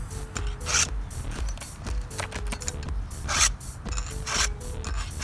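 A file rasps across the chain of a Husqvarna 450 Rancher chainsaw in quick, rhythmic back-and-forth strokes, close and clear, with no talking.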